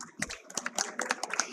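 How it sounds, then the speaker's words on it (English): Scattered, uneven hand claps from a small audience in a conference hall, sharp and fairly close, honouring a speaker. "So a huge round of applause for Anshul sir."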